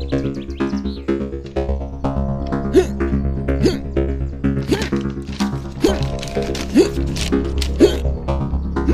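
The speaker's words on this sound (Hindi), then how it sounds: "अरे क्या हिचकी आ रही है?" A person hiccups repeatedly, roughly once a second, in a sharp rhythmic series over a steady low musical bed in a Hindi film scene, close and clear.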